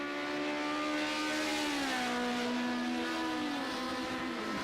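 Touring car engines in a racing video game roar loudly and steadily, their pitch sliding down and back up through gear changes, with no talk over them.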